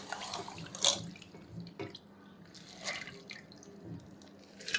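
Henna leaves rinsed under running tap water, with soft trickling, dripping and occasional splashes close by at low level.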